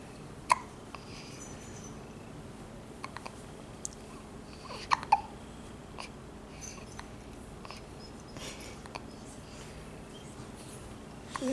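A baby boy hiccups in quiet short bursts, several faint scattered hics spaced irregularly against a soft room background, with no talking over them.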